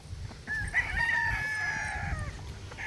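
Young gamecock stag tethered outdoors crowing once, a drawn-out strained cock-a-doodle-doo lasting over a second and a half, fairly close, over low rumbling background.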